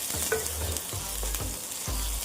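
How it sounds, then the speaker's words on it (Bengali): Onions frying in a pan give a quiet, steady close sizzle, with a few soft stirring scrapes landing about once a second and no talking. "এবং পেঁয়াজগুলো প্রায় শ্যালো ফ্রাই হয়ে গেছে"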